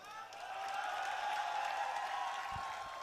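Applause and crowd noise from an audience at a Bharat Jodo Yatra rally, a steady dense wash of clapping and voices holding throughout, with a couple of low thumps near the end.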